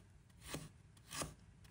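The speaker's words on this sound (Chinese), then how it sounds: "1块生姜，把它切成片" A knife cuts through a piece of fresh ginger on a board, two quiet, distinct slicing strokes roughly half a second apart against faint background noise.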